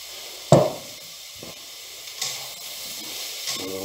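Peppers and other vegetables cook in a frying pan for a frittata, giving a steady soft hiss with a couple of brief louder sizzling bursts and a clank near the start.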